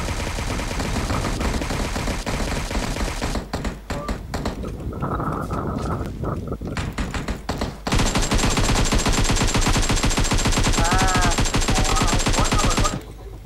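Gunfire in the video game PUBG: loud, dense volleys of automatic fire and rapid shots, with a brief thinner stretch in the middle before a heavy, sustained barrage to the end.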